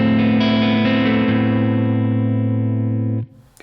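Ibanez electric guitar on its neck pickup rings out a sustained, loud chord that slowly decays before being abruptly muted, leaving a brief scrape of noise.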